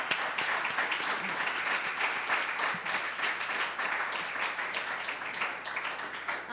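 An audience applauds the panel speakers at a law event, a dense, steady wash of many hands clapping that holds for the whole stretch without pause.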